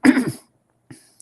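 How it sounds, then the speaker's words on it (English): A single harsh adult cough bursts out, followed by a brief faint throat sound and a tiny click in otherwise quiet surroundings. "I'm coughing a little bit"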